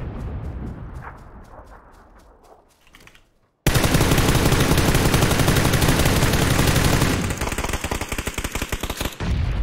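Gunfire in PUBG, a few spaced shots fading out, then a sudden loud, dense burst of rapid automatic fire lasting several seconds, followed by quicker staccato shots close by.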